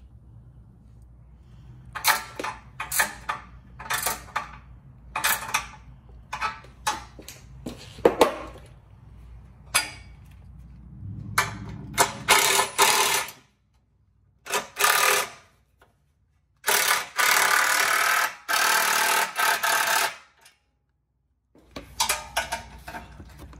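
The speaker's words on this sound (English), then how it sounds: "then we'll tighten it down with a 13mm wrench" Metal ratcheting clicks in short bursts from a 13mm wrench tightening a nut and bolt on a front mount intercooler install on a Fiat 500 Abarth, close and alone, with pauses between runs and no talk.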